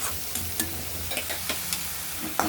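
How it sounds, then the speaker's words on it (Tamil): Paneer sautéing in oil with turmeric, chili powder and salt over a low flame, a soft continuous sizzle broken by repeated scraping stir clicks of a spoon against the pan, close up, with no talking. "பன்னீரை இப்படி கொஞ்சம் எண்ணெய் ஊற்றி அந்த எண்ணெயில் வந்து கொஞ்சம் மஞ்சத்தூள், கொஞ்சம் மிளகாத்தூள், இவ்வளோண்டு உப்பு போட்டு நல்லா வதக்கணும்."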